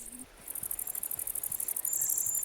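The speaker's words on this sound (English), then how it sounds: "When grasshoppers and crickets are looking for love, they sing." Crickets chirp by rubbing their wing cases, a steady rapid high-pitched pulsing trill that runs throughout, with a second brighter insect tone joining near the end over a quiet outdoor background.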